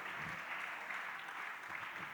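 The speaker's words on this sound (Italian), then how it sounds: "è l'applauso per la canzone o è per Vito?" Steady audience applause after a song at a live performance, a dense, even wash of many hands clapping somewhat distant and sustained throughout, without a clear peak or stop.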